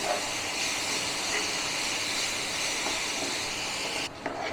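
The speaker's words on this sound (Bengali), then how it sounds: "এবারে গুড় দিয়ে ভালো করে নারকেলটা ভেজে নিতে হবে।" Grated coconut frying with date palm jaggery in a pan, a steady loud sizzling hiss that holds evenly throughout and drops away abruptly near the end.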